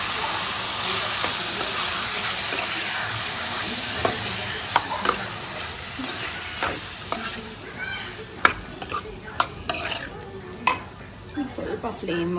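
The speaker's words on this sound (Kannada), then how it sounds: "ಲಿವರ್ ಗೈಸ್ ತುಂಬ ಬೇಗನೆ ಫ್ರೈ ಆಗಿಬಿಡುತ್ತೆ" Half a kilo of liver frying in a pan, a steady broad sizzle broken by sharp clanks and scrapes of stirring, close and fairly loud, with no speech.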